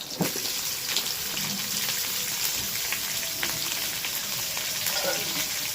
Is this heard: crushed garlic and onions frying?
yes